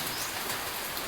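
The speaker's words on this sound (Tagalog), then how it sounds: "Pero medyo maulan lang." Steady rain during Typhoon Basyang, a dense even hiss falling continuously without pause, no voices present.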